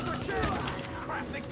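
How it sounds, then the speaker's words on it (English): Rapid, loud automatic gunfire from the video game The Division, close and continuous bursts layered with mechanical clatter, with a voice talking underneath. "Let's just actually shoot these guys."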